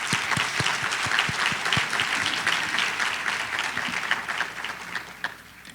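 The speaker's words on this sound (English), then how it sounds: "I would like to applaud you once again." Audience applause at a top seniors recognition ceremony held by a county school system, steady dense clapping from a large crowd throughout, slowly thinning toward the end with no voices over it.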